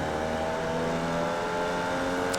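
Formula Vee race car in iRacing at Circuito de Navarra, its engine holding a steady droning tone with layered harmonics, close and continuous, with a brief throttle blip near the end.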